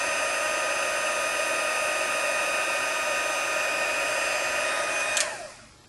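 A craft heat tool blows hot air to set embossing powder on a stamped greeting card, a loud, steady whining hum with a fan roar that cuts off near the end and quickly spins down.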